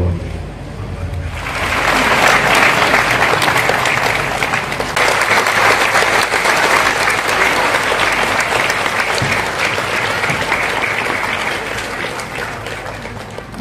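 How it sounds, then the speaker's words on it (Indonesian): Loud, sustained applause from an audience at the opening of a Yogyakarta palace exhibition featuring a parade of abdi dalem costumes, swelling after a second and continuing steadily until fading near the end. "Boleh kita berikan sekali lagi tepuk tangan yang meriah"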